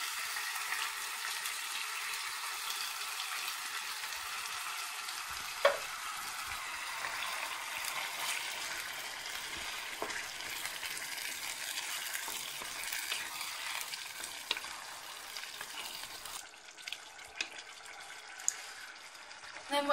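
Bolognese sauce poured over browned mince in a hot pan, giving a steady close sizzle and frying crackle with scraping stir strokes, a soft spatter thump near the middle, and brief faint talk.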